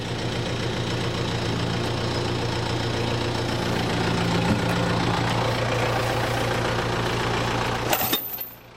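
A tractor engine idles steadily through logging work, a low continuous rumble with a faint knocking texture, holding even for most of the stretch before a brief clatter and a drop-off at the end.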